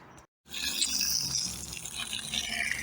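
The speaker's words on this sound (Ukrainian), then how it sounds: "Водичка йде. Напорчик стабільний, гарний." Water runs steadily from the tap of a freshly cleaned borehole well at stable pressure, a continuous hissing flow that starts after a brief silent gap and keeps on evenly, with no talk.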